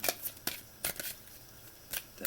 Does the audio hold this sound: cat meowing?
no